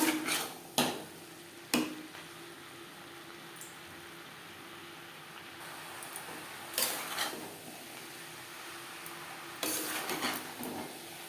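Banana flower stir-fried with spices, chickpeas and coconut in a pan over high to medium flame, sharp metal spatula clanks and scrapes at irregular intervals over a faint sizzle, close up with no talking.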